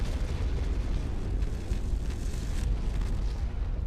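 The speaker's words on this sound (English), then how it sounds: "Gotta watch the explosions." Continuous rumbling explosions from combat in the Mechwarrior 5 video game with a modded campaign, a dense, loud low-end roar with bursts layered throughout and no talking.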